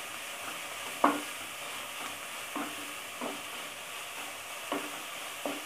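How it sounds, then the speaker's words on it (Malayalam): Onion and green chilies are sautéed in a pan under a steady sizzle, with a few sharp clinks and scrapes of stirring at irregular moments, moderately close and without speech. "ഒന്ന് വഴറ്റി കൊടുക്കാം."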